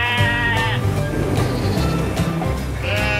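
Merino sheep bleating, a ram, ewe and lamb, with two long wavering bleats at the start and end, loud and close, and a softer rustling stretch in between.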